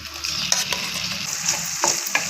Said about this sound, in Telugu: రొయ్యలు వేస్తున్నాను.